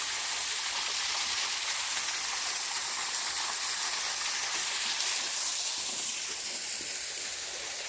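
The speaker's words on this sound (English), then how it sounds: "So here we are behind the waterfall." Small waterfall spilling from a pond spillway at Peachtree Rock, heard from close behind the falling water as a loud, steady broadband rush and hiss with no pauses or voices.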